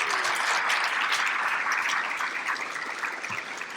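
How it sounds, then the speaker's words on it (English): Crowd applause at an awards and scholarship ceremony: a dense, continuous wash of many hands clapping, fairly loud and steady, easing slightly toward the end, with no voices. "Give yourself a round of applause."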